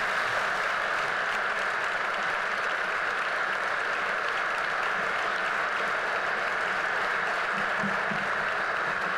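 Warm, sustained applause from a large audience at a university tribute ceremony at ITAM, a dense even wash of many hands clapping steadily for about nine seconds without a pause.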